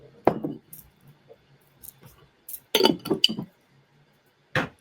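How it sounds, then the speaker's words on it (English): A teaspoon scrapes and clinks against a tea tin and cup while scooping heaped spoonfuls of dried peppermint leaves, a few sharp close clinks in separate bursts with quiet gaps between. "So I'm going to do 2 teaspoons of the peppermint."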